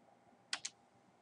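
Two quick keystrokes on a computer keyboard, a pair of light, close clicks about a tenth of a second apart, over a quiet room hush.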